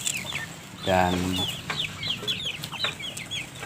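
Free-range village chickens on a small farm cluck repeatedly in short calls, with one loud squawk early on and smaller chirps scattered around it. Someone speaks over them.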